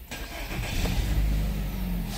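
A 2015-2016 Nissan Rogue engine turns over and catches, settling into a steady low idle rumble close by after the start.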